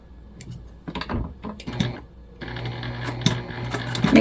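A sewing machine stitches the seam of a fabric gift bag in short, stop-start bursts of rapid mechanical whirring and clatter, close by.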